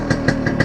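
A Yamaha RX two-stroke motorcycle revs in short repeated bursts, close and fairly loud, with a buzzing engine note pulsing about three times in under a second.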